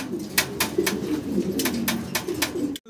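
Fancy pigeons, a pair of new adults, coo in a low rolling murmur from close by, punctuated by sharp clicking knocks, with no voices.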